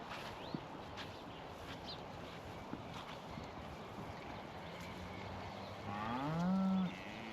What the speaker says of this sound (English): So here's the heifers.